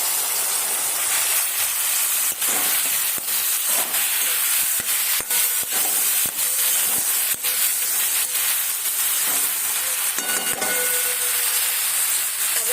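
Cauliflower and pre-boiled potatoes fry in a pan for a Gujarati cauliflower-potato curry, with a loud continuous sizzling hiss and occasional small pops and crackles throughout, up close and with no speech.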